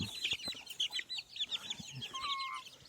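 Young chicks cluck repeatedly in short, busy bursts close by, with a brief higher squawk near the end and no talking.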